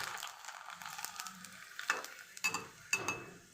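A small fasting bhagar papad hits hot oil and crackles as it puffs up, with a soft steady sizzle broken by a few sharper pops and light scraping.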